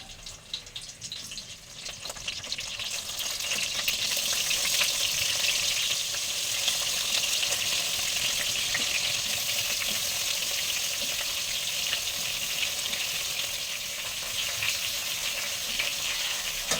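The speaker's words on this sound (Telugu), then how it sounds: "ఆయిల్ హీట్ అయిందండి. ఇప్పుడు ఇందులో 2 రెబ్బలు కరివేపాకు వేసుకుని వంకాయలు వేసేసుకుందాం." Eggplants and curry leaves sizzling in hot oil, a steady crackling fry that rises after a quieter start and holds loud and continuous throughout.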